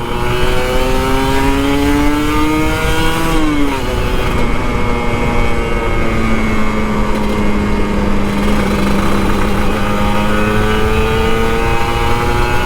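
A Kawasaki Ninja RR 150, an older two-stroke sport motorcycle, revs loudly up close on a morning ride, its buzzing engine note climbing, dipping and rising again over roughly thirteen seconds.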